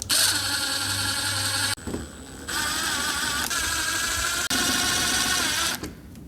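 Power driver running screws in to refit a headlight on a Chevy OBS truck, a loud steady whir broken by brief pauses into several sustained runs.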